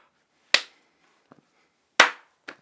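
A sharp hand clap marks the start of an interview recording, followed by a second louder clap and a few faint taps in an otherwise quiet room.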